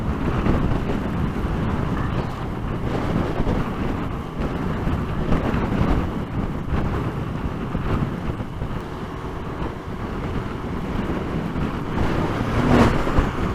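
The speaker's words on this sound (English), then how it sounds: "Oh my lord, this wind." Strong wind roars and buffets the microphone while a motorcycle rides on, as a loud, continuous low rush with the engine blended into the gusts.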